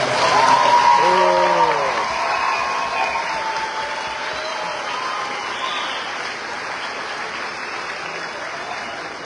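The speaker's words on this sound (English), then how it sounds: "So we could give them a big round of applause" A big round of applause from an audience for graduating students at a Green Forest, Arkansas school ceremony, dense and steady throughout, with cheering voices rising near the start and then fading into sustained clapping.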